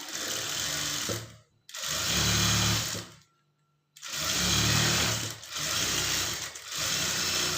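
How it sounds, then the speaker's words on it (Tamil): A sewing machine stitches blouse fabric in loud close bursts of rapid mechanical whirring, stopping briefly after about a second and a half, pausing longer near three seconds, then running again in two more stretches with a short break between them. "கால் இன்ச் அளவுக்கு ஒரு தையல் போட்டுக்குங்க"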